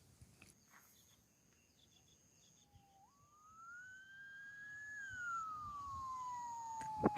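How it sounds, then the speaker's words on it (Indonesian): A police escort siren on the Cisumdawu toll road in Indonesia starts faint, then rises in pitch, holds and slowly falls as it draws nearer, heard alone against a quiet background. "Pukul setengah 7 terdengar sirine patwal."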